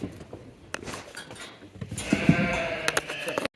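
Poll sheep and lambs bleat several times at close range, loud calls over a restless farmyard background with shuffling and clattering.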